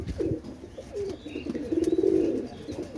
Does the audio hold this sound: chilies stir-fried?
no